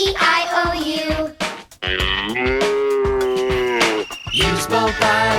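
A cartoon cow in JumpStart Kindergarten lets out long, loud, drawn-out moos, a few sustained calls close up with brief pauses between them.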